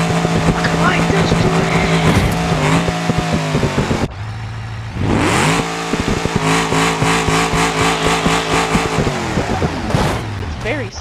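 Car in a video game drifting and sliding through corners, a continuous loud engine drone with tire squeal and skidding, briefly dropping out before resuming, with a voice talking over it.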